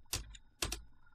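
Two short, quiet bursts of computer keyboard keystrokes, a quick cluster of taps each, with a faint stray click at the end, close by and without speech.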